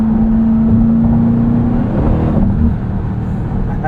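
A 2023 Dodge Durango SRT Hellcat engine pulling hard, a loud, deep continuous roar with a rising tone that steps down near the shift, heard from inside the cabin without talking.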